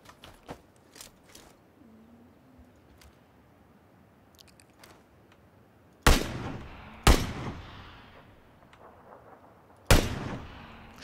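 Gunfire in PUBG, a solo battle-royale shooter: three loud, sharp shots land about a second and then three seconds apart, with faint scattered clicks and distant pops before them and no talking.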